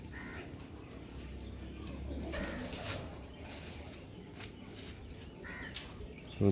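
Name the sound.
pigeon cooing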